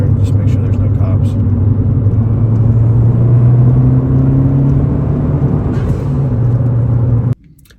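A 10th-generation Honda Civic Si fitted with a PRL Cobra cold air intake and stage 1 tune cruises in fourth gear around 3,000 RPM, giving a loud steady drone and rumble that cuts off abruptly near the end.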